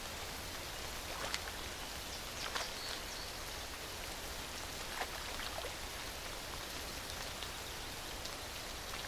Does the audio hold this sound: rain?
yes